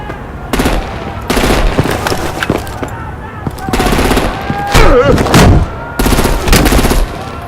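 Bursts of heavy gunfire and explosive blasts in a Batman video game battle, arriving in repeated loud volleys a second or so apart, with voices and whooshing effects woven between the shots.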